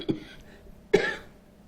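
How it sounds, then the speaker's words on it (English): Two sharp coughs close to the mic, a short one and then a louder, rougher one about a second later, with quiet between them. "I've got this cough, and I have to deal with it."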